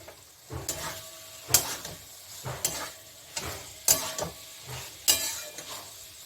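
Pointed gourd sizzles in a pan with spiced lentil masala while being stirred, with about six rhythmic scraping strokes against a steady frying hiss, close up and with no talking.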